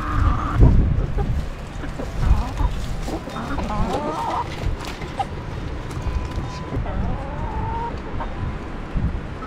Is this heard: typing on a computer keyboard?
no